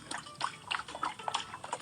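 Cake batter being poured in a 3D cake-making video game, a run of soft, wet, dripping and splattering sounds in quick irregular bursts, moderately close, with no talking.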